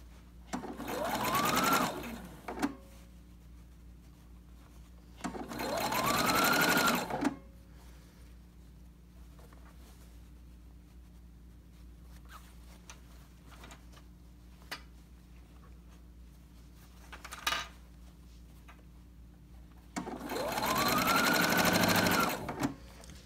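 Domestic sewing machine stitching fabric for a Cricut Maker dust cover, running in three separate bursts of a few seconds each with quiet pauses between them, close and moderately loud.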